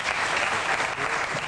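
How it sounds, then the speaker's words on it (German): Studio audience applause on a German TV talk show, a steady dense wash of clapping from start to finish with no voices over it. "das Klatschen kam dazwischen"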